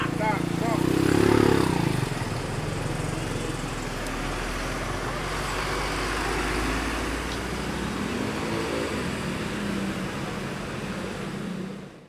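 An Adi Putro-bodied V81 bus works its way through the Ombilin intersection amid steady roadway traffic, engine rumble mixed with passing vehicles. A voice talks over it throughout.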